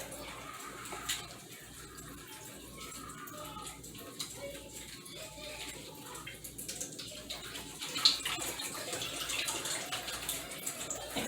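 Cold tap water runs steadily over cooked lasagna noodles being rinsed in a kitchen sink, a continuous close splashing hiss that grows slightly louder toward the end.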